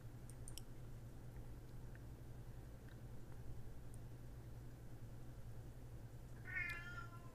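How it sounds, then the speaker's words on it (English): A single short cat meow sounds near the end, faint and brief, over a quiet low hum with a few soft clicks. "And my cat is meowing."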